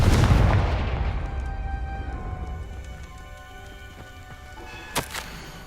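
A Confringo blasting spell goes off in the Hogwarts Legacy video game as a loud booming explosion that rolls and fades over several seconds, followed by a sharp crack near the end.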